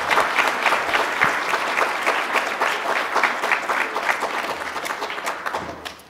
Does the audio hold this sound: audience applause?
yes